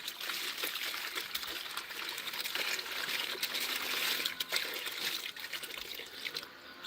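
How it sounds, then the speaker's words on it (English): Distilled water pours steadily into a bucket for a one-bucket, no-hose car wash, a continuous close splashing trickle with no talk. "So I'm going to use my distilled water."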